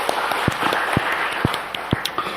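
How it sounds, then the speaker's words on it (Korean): Congregation applauding in a church, with a steady bed of clapping punctuated by strong claps landing roughly every half second in a rhythmic beat; no voices. "영광의 박수를 주님께 돌립시다"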